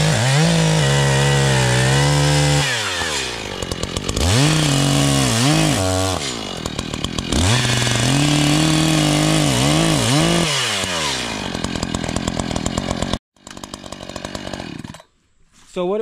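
Chainsaw cutting wood while clearing a new food plot, a loud close engine revving up and down in bursts as the chain bites into timber, then idling and dropping off near the end.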